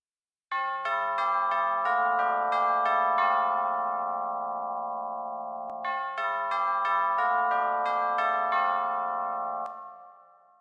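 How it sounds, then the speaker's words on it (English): Tubular bells ring out in a song arrangement, struck in quick succession to form two bright descending phrases of bell tones that layer and sustain, clear and close with no talk. "There's also some tubular bells here."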